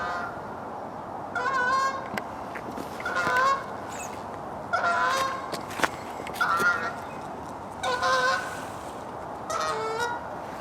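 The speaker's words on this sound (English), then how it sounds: "A lone Canada goose came flying in and landed in the pond." A lone Canada goose honks in loud, nasal bursts of several calls each, spaced a second or two apart, as it flies in and lands on a pond.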